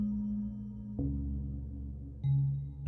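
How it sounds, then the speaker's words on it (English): Synth tones processed through a Clouds module in looping delay mode acting as reverb in VCV Rack, sustained low droning notes that shift pitch twice, with a smooth washed tail and no talking. "we also have a ritardo here, which is clouds in its looping delay mode, mostly used here for a very nice reverb"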